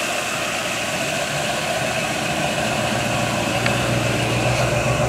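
A 1963 Chevy C10 pickup engine idles steadily and loudly up close, a continuous low rumble with an even tone and no revving, running alone the whole time.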